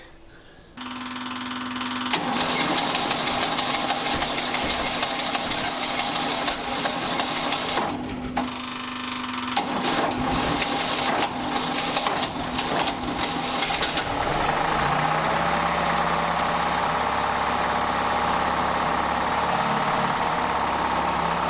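A Panhard PL17 engine cranks briefly, fires and settles into a steady, loud idle, running continuously and close with no voices over it.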